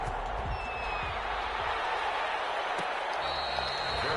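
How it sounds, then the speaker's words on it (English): Crowd clapping and cheering from the sidelines of a Madden NFL football video game during a Rams game, a dense, steady wash of applause that runs the whole time at an even, moderate level. "That's why you hear that clapping on the sidelines"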